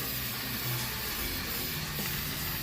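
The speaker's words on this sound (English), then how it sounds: "now we are going to go in with our spray paint, get it all painted up" Aerosol spray paint hisses steadily and close up while coating a cardboard box, a continuous broadband spray lasting the whole stretch with only slight swells in level.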